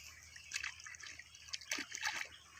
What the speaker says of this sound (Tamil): பாருங்க எவ்வளோ ஸ்பீடாக வருது தண்ணி